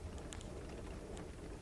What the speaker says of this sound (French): découvrir cette pluie qui finalement nous laisse un peu dubitatifs